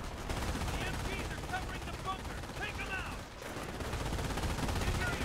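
Sustained machine gun fire rattles through a battle in Company of Heroes at Omaha Beach during the Normandy landings, with continuous bursts and scattered gunshots under a steady roar of combat, while a voice talks over the action.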